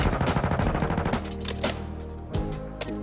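Gunfire in Warzone 2: a loud rapid burst of automatic fire opens, then scattered shots and impacts follow amid game noise.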